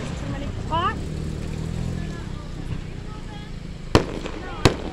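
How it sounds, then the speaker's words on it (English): An outdoor fireworks show crackles and rumbles as a steady backdrop, with two sharp bangs near the end, heard from inside a car while people talk excitedly. "Have you ever been to a fireworks show before?"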